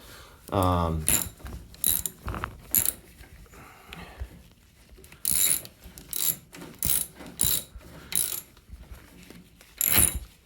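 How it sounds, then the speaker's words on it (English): A hand ratchet with a 10mm socket and extension works a starter bolt loose on a 21hp Vanguard engine of a hot water pressure washer, giving a series of short close ratcheting bursts spaced a second or so apart, with a brief whir near the start. "But 10mm socket with an extension was what we needed to get the other one off."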